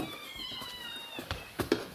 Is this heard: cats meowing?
yes